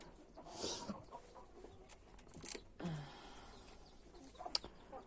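Hens cluck in short bursts at close range, with a few sharper calls scattered through a quiet farmyard background.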